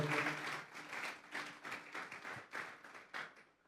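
A church congregation applauds during a Spanish-language sermon, a sustained round of many hands clapping in uneven waves that swell and dip, heard alone and fairly distant.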